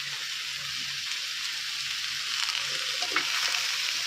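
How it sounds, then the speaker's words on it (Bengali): Vegetables for vegetarian shukto fry in a pan with a steady close sizzle, broken by a few soft stirring scrapes and knocks, with no voices. "আমি এটাকে দু মিনিটের মতো ভেজে নেবো"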